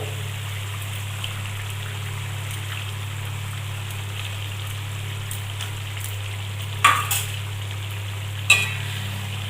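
Fried katla fish going into a village-style kalia curry in a pan, with a steady low bubbling simmer throughout and a couple of sharp stirring scrapes near the end.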